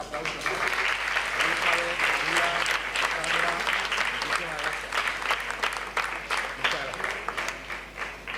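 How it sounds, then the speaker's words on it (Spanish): A roomful of people at a round-table talk on surrealism claps steadily, a dense sustained applause from a seated audience with some voices mixed in underneath. "se merece un aplauso"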